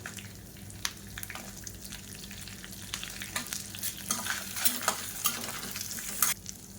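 Red chillies, curry leaves, ginger and green chillies fry in a pan for a lentil chutney, a steady close sizzle broken by scraping stirs and clinks of the spoon that grow busier toward the end.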